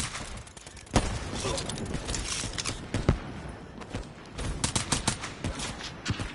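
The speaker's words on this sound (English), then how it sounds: "That bot freaking shot me out of midair." Gunfire from a bot in a shooting video game, a dense clatter of rapid shots with a few sharper cracks standing out, continuous and fairly loud with other game noise mixed in.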